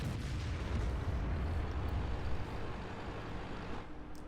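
Heavy cannon fire from a Japanese heavy tank in a tank video game, a loud continuous low booming rumble with no clear separate shots, thick and close, no voices.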